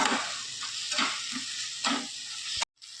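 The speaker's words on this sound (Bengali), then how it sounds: "আদা রসুনের পেস্টটা দিয়ে ভালো করে আবার আমি ভেজে নেব।" Ginger garlic paste fries with tomatoes in a hot pan, a continuous sizzle broken by several spoon strokes and stirring scrapes, ending in a sudden cut to silence.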